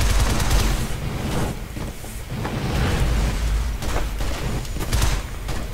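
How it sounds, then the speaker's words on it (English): Gunfire aimed at the player in the video game Shadow Complex, dense bursts of shots and booming impacts rolling on continuously at close, loud level. "Quit shooting me, please."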